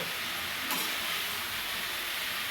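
Malunggay leaves sautéing in a pan, a broad steady hiss with a brief louder burst early on, then an even sizzle continuing close by without speech.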